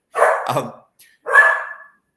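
Dogs bark close by indoors, two loud barks about a second apart, the second with a higher, ringing tone.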